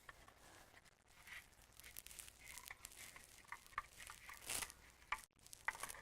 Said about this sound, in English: So then you want to thoroughly mix this.